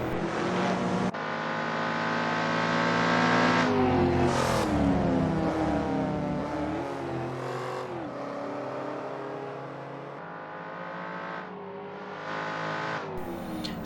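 Saloon race cars in an Assetto Corsa British Saloon Car Championship race brake hard and accelerate through Island Bend toward the Esso corner, their engines whining and revving loudly and continuously, rising and falling with gear changes, with no speech.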